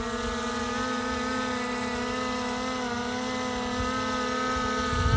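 Skydio 2 drone flying a Vortex shot: a steady, tonal propeller whine with layered harmonic hum, continuous and fairly close, rising slightly at the very end.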